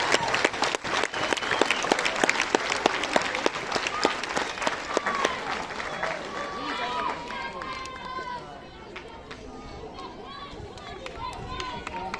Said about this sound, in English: Another big round of applause for our joint champions of this year's tournament